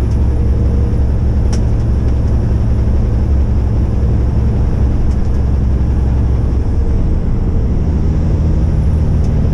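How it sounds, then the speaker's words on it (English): Traffic flows steadily past on a highway near Tarcutta, a loud, continuous low rumble of trucks and cars with a brief hiss like an air brake, no voices. "The traffic's not too bad. It's flowing."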